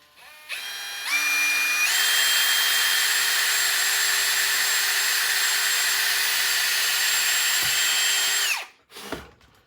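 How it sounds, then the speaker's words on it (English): Power drill boring a hole into a wooden dowel, a high whine that spins up in steps, holds steady and loud for several seconds, then winds down, followed by a couple of short knocks. "the easiest way to get started on the dowel is to drill a hole in it."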